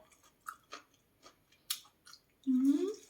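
Close, crunchy chewing of crisp wilted raw vegetables in several quick bites, followed by a brief voiced sound at the end.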